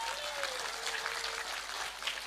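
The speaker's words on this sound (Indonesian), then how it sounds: "Lho tepuk sing banter, gak usah sungkan-sungkan" Audience applause during a sermon by Gus Muwafiq, a soft, distant wash of clapping held steady over a couple of seconds.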